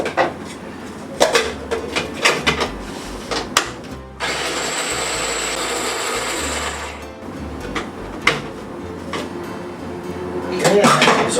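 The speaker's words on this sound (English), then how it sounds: "I have onions and garlic that I need to cut up and I will saute." Onions and garlic being chopped on a cutting board for a sautéed mushroom topping for creamed beef on toast, heard as irregular knife taps and board knocks with a steadier whirring stretch in the middle.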